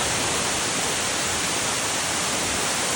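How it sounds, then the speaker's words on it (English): Waterfall on a Mt Shasta hiking trail, a steady, dense roar of falling water that fills the whole clip evenly and loudly, with no voices. "and we see the Waterfall Falls."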